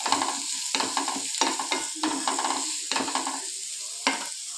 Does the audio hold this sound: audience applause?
no